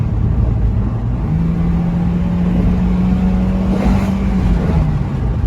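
A 2003 Toyota Matrix XR fitted with a TRD muffler runs at full throttle, a loud, fairly smooth engine drone that rises in pitch and holds steady before easing back near the end, alone without talk.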